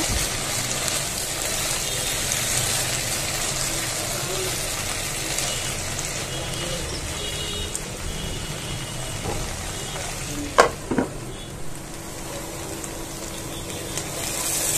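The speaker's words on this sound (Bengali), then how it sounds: "ভাজিটা আমি হালকা তাপে এভাবে একটু ভেজে নিচ্ছি" Okra bhaji frying over low heat in a pan, a steady soft sizzle with faint stirring scrapes and a couple of brief sharp knocks partway through.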